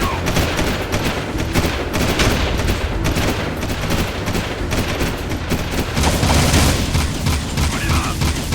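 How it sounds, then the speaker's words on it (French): Dense, continuous gunfire from the Jak II game rattles loud and close throughout, with rapid overlapping shots and booms forming a sustained barrage. "On nous tire dessus!"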